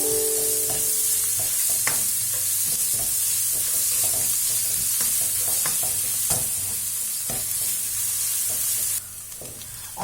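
Onions frying in a pan for an Indian chickpea curry, a steady close sizzle broken by repeated scraping and clacking stirs, with no talk.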